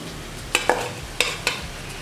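Wheat-flour namak pare dough pieces dropped from a slotted ladle into hot oil, a steady sizzle punctuated by four distinct taps and splashes as they go in, near and without talk.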